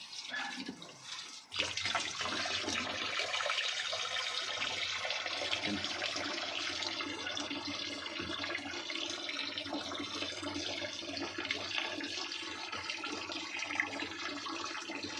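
Water pouring steadily into a backyard crayfish pond while plants are being watered, a continuous broad rushing flow that starts abruptly after a brief pause and holds fairly loud to the end.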